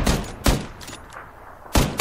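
Gunfire in the battle royale game PUBG: loud broadband shots crack at the start, again half a second later, and once more near the end, with a quieter lull of distant game noise between them.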